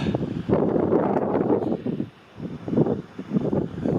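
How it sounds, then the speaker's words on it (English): Gusty wind buffets the microphone in rough low rumbling bursts by a river mouth at the sea, easing briefly mid-way before picking up again. "It's a very windy day"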